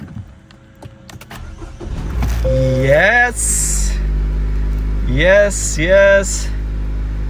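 A 2023 Acura Integra starts up after clicks and a brief crank, then settles into a loud, close low idle with short rising revs, while someone speaks a word.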